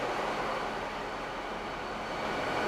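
An Alaska Railroad flag train rumbles steadily at moderate volume, a continuous broadband roll of wheels and carriage noise with no voices or distinct events.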